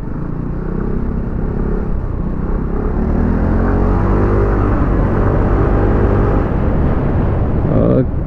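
A 2025 SYM NAGA 155 scooter on a test ride on a road in Malaysia, overtaking a car, gives a loud, steady engine drone and heavy wind roar throughout, with no break.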